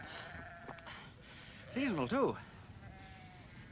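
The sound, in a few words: sheep bleating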